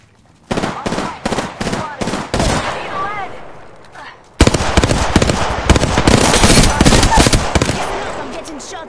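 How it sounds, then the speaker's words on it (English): Automatic gunfire in Apex Legends: a few separate loud bursts, a short lull with chirpy game sounds, then a sudden sustained barrage of rapid close shots. "I'm getting shot at."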